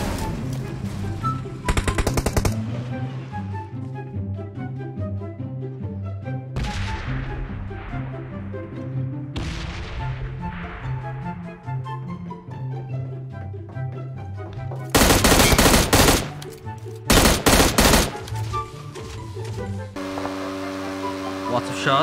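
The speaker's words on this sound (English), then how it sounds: "Lots of shots." Rapid automatic bursts of M4 rifle fire from a video game, loud and close, break through a steady game soundtrack. A player talks over parts of it.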